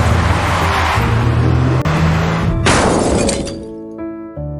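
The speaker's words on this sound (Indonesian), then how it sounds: "Tanpa diduga, Labu mengalami kecelakaan." A car crash in a film: a loud engine drone builds, then an abrupt impact with shattering glass and crunching metal, followed by scattered debris and tinkling fragments settling as the noise fades.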